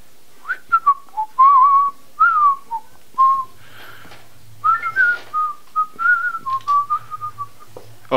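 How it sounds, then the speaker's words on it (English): Someone whistles a wandering, cheerful tune up close, in short phrases with brief pauses between them. "Why am I whistling? I like to whistle."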